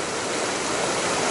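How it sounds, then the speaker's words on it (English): Tenmile Creek in Colorado rushes past near Route 91 from Leadville, a close, steady broadband wash of flowing mountain water with no voices. "So this is a 10-mile river next to Route 91 from Leadville."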